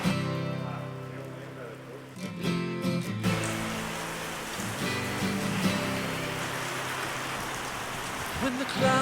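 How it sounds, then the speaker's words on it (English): Rain falls steadily as a broad hiss with a few soft drips, moderately faint, outdoors beside a camper van during a conversion project, with some quiet background sound near the start. "Raining."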